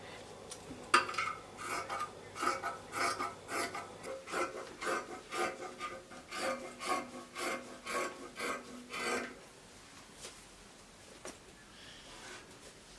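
Scissors cutting through fabric for combo pants, a run of rhythmic rasping snips repeating at a steady pace, close and fairly quiet, then trailing off into near silence.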